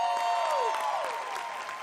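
A studio audience applauds and cheers for a celebrity guest, a brief dense wash of clapping with a whooping voice sliding over it.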